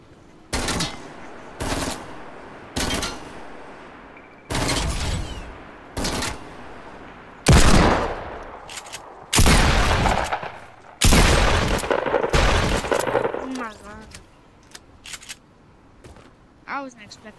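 Bursts of gunfire in a mobile shooter game, repeated loud rapid volleys separated by short gaps, with game sounds between the bursts.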